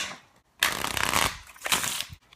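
A deck of playing cards being riffle shuffled, with two loud, rapid bursts of crisp fluttering card riffles separated by a short pause. The shuffling is close and there is no talking.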